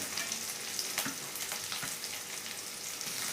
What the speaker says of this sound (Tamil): நல்லா இதை வதக்கி விட்டு உப்பு போட்டு வதக்கணும்